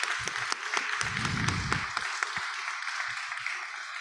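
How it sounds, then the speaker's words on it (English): Scattered audience clapping at a conference, fairly quiet and thinning out, with sharp individual claps early on that fade into sparse handclaps. "Please, a special applause for them,"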